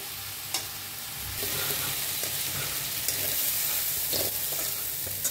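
Roasted moth beans and potato being scraped and stirred out of a hot pan onto a plate, with a soft continuous sizzle and scraping that thickens after the first second, plus a few light spoon clicks.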